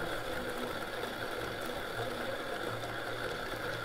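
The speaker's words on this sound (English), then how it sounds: "I put my hand on the grinder, push into the table, apex grip, apex spin" An OE Apex manual coffee grinder crushes beans with a steady, dense mechanical grinding and rattling, close and continuous with no pauses.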